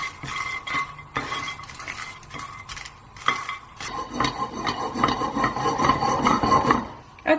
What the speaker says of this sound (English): we're going to get started by dry roasting some cashews and some whole red chilies